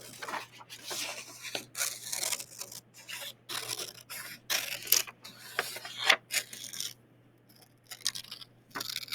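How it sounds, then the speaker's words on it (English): Scissors cut paper in a spiral, making faint, close, intermittent snips and rasping slides with short pauses between strokes. "And now as I close, I'm turning my scissors."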